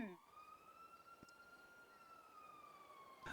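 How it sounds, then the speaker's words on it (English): Police-style sirens in a GTA V roleplay session wail past as one steady, slightly bending tone with bright harmonics. They stay faint and distant for about three seconds, then cut off abruptly. "I'll wait for these sirens to go by real quick"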